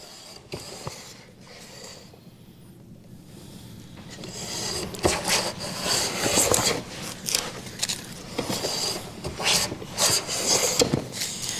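Hand plane shaving wood close up, a low-angle or standard bench plane making repeated rasping strokes that grow louder and more rhythmic after a quieter start, with no voices.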